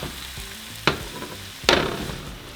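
Ground meat hits a hot frying pan after onions have sautéed, giving a steady close sizzle with two sharp bursts of louder crackling as portions land.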